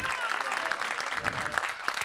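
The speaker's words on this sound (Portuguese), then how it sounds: "Salve palmas, Lara e David." Applause for Lara and David at a gathering, a steady patter of many hands at moderate distance. It rolls on evenly for about two seconds, with a few sharper claps standing out from the wash.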